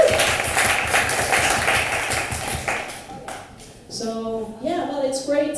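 Audience applause at an evening panel event on a just energy transition: about three seconds of dense, steady clapping from a sizeable crowd that fades out, followed by a person speaking.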